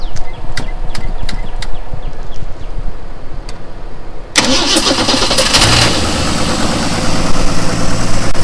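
A 1963 Ford Falcon Futura engine, back on the road after 18 years, is cranked briefly, then catches and roars to life, settling into a loud, steady idle close by.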